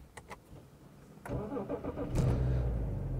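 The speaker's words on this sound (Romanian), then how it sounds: "acum o să pornim mașina ca să putem să ne conectăm la ea" A 2006 BMW E60 engine cranks and fires on a cold day at about 5 degrees, with a few clicks before a short starter whir and a catch into a loud, steady, close idle.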